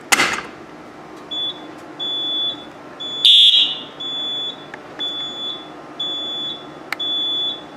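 A fire alarm system triggered from a pull station sounds its zone code as a series of evenly spaced, loud electronic beeps, one brief louder blast near the middle, alone without talk.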